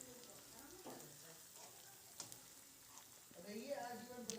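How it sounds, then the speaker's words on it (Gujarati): Chopped onions frying in oil for pav bhaji, being stirred over low heat: a soft continuous sizzle with faint scraping stirs, fairly quiet, with a brief louder patch toward the end. "આ રીતે હલાવતા જઈને એને 2 મિનિટ સુધી તેલમાં ફ્રાય કરી લેવાનું છે"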